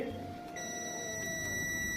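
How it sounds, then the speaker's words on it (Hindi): A multimeter continuity tester sounds a steady high electronic beep that starts partway through and holds unbroken, checking a line against ground on a Samsung M30 phone circuit board. The room is quiet apart from a faint background hum. "लेकिन ये लाइन ग्राउंड के साथ बीप आ रहा है।"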